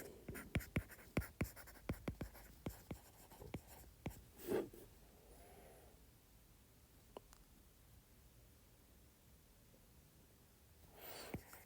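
Pen or chalk writing on a board during an optics lecture, a quick run of sharp scratchy strokes and taps over the first few seconds, then sparse marks with faint breathing in a quiet room.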